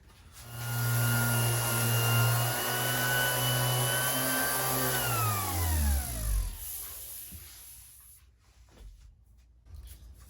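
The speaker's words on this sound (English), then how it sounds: "Alright, I'm going to go cut this on the bandsaw." A bandsaw cuts wood for a guitar body, the motor humming loudly and steadily through the cut, then spinning down and winding off into quiet with a few small bumps at the end.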